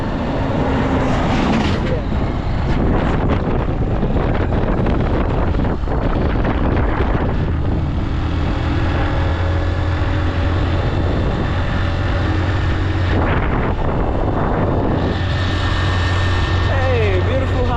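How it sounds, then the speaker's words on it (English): Big tipper trucks roll past on a village road, a loud continuous heavy rumble with a deep low drone, heavily buffeted by wind noise on the microphone while people talk nearby. "Big tractors are coming, guys. We call tipper."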